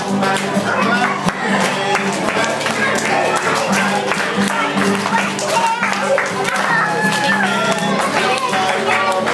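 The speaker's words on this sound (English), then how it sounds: "let me hear you clap your hands" Children at a school show clap their hands together in a dense, continuous burst that runs throughout, mixed with crowd noise and music-like tones.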